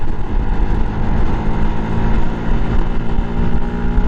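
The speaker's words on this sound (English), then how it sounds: "there's a trio of bikes coming" Three motorbikes approaching and riding past on a road, heard from a Yamaha MT-125 as a steady, loud, low engine drone with a throaty rumble throughout.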